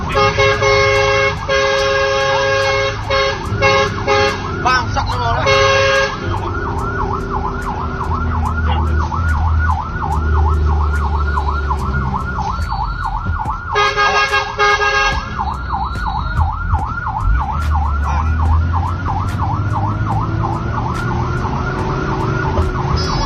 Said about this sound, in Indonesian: Meski suara sirine dan klakson dari mobil damkar terdengar sangat keras